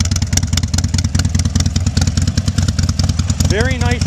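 A 2006 Harley-Davidson Sportster 1200 Custom fitted with Screaming Eagle slip-on mufflers idles nearby with a loud, even, rapidly pulsing thump, joined near the end by a short high chirping warble.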